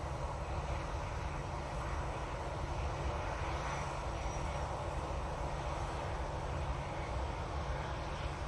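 An IndiGo airliner at Manchester Airport roars steadily and loudly from start to finish, a continuous broadband engine rumble with no voices over it.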